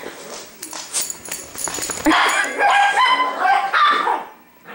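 Several puppies yap and bark in quick, overlapping bursts, close and fairly loud, with a few whimpering yips mixed in and a voice briefly in the background.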